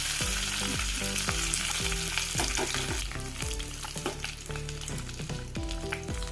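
Loud, steady sizzling of mustard seeds and curry leaves frying in hot oil, with quick crackles and pops and occasional scrapes of stirring.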